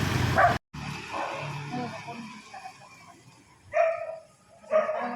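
A few dog barks ring out faintly in the distance, spaced apart, over a quiet background with a brief bark at the start.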